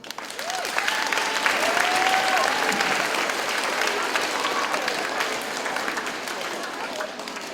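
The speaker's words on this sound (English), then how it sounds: "Please give a round of applause for Mason and Brooke." Crowd applause at a school stewardship day, a sustained wash of clapping from many hands with cheering voices mixed in, steady throughout.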